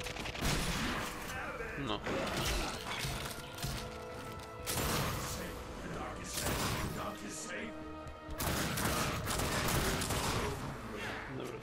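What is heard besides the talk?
gunfire in the video game The Darkness 2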